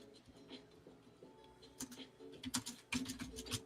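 Typing on a computer keyboard during a New Year's Eve livestream, starting as faint scattered taps and building into quicker, louder bursts of clicking keys, with quiet talk in the background.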